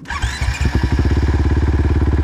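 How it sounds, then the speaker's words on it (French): A rally motorcycle at the Rallye du Maroc 2024 is switched on, its engine catching after a few uneven turns and settling into a steady, close, loud rapid idle pulse. "Et t'allumes la moto?"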